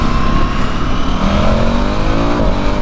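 A KTM 1290 Super Adventure S motorcycle engine revs loudly and close by, a continuous roar that climbs in pitch across the stretch.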